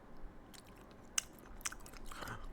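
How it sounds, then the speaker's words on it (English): A cat crunching dry food, with a few sharp, isolated crunches and faint chewing ticks, quiet and close over a soft background hiss. "There's nothing enticing like hearing the sounds of your pets crunching into anything."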